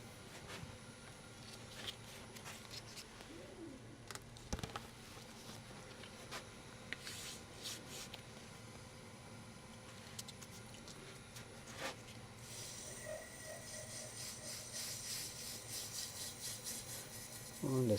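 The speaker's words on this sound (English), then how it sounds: "actually to be able to get to sand it clean, sand it without destroying what" A small cypress hollow form is sanded by hand, giving a soft, continuous rubbing and rasping at close range, with a few sharper knocks and handling noises.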